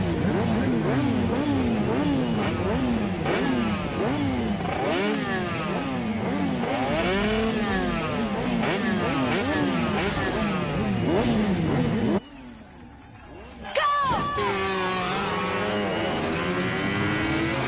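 Several motorcycles rev and roar through a bike racing scene in a Telugu action film, the engine sweeps rising and falling continuously over crowd noise, broken by a brief near-silence before the loud engines return.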